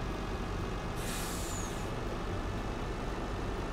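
A truck rolls slowly through a village in Farming Simulator 19, its low engine rumble steady throughout, with a brief hissing air-brake release near the start.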